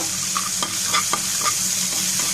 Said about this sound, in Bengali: রসুনটা একটু ভেজে নেওয়ার পরে দিয়ে দেবো পেঁয়াজ কুচি আর কাঁচামরিচ কুচি সবগুলো উপকরণটা আমি এবার ভেজে নিব